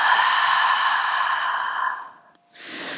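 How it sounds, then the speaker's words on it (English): A long, full breath pushed out through the mouth during a prenatal yoga session, steady and close for about two seconds, fading to quiet before a short intake of breath. "Take a deep breath down into your belly, into your baby, and a full breath out of your mouth."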